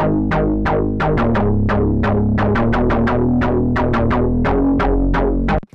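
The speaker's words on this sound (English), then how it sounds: "today, I want to talk about bass guitar plucks" Punchy drum and bass bass guitar pluck synth notes repeat in a quick, rhythmic pattern, each with a sharp bright attack over a deep low end, loud and alone.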